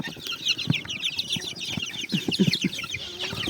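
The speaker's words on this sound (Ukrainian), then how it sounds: "Сірі, голубі, кури, кури півні." Chickens and roosters cluck close by in a backyard flock, a busy run of short, overlapping clucks and murmurs with occasional soft wing flutters, fairly quiet and steady throughout.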